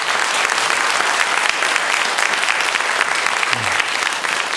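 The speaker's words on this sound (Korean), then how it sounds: "큰 박수로 여러분이 환영해 주시기를" Steady applause from a church congregation during a Sunday morning service, welcoming people as two elders present gifts; a dense, continuous clapping fills the room for several seconds without speech.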